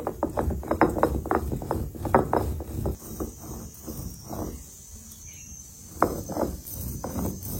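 Dried chilies are ground into paste on a grinding stone, with rhythmic rough scraping strokes in quick close bursts, a pause near the middle, then more grinding strokes.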